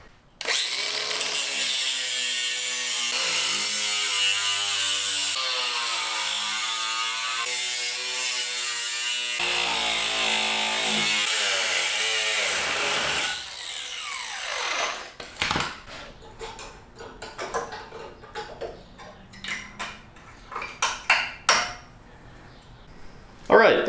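Power tool cutting rusty sheet metal out of a Nissan 240SX S13 body, a loud continuous grinding whine for about fifteen seconds, then bursts of rattling and clanking as the cut finishes.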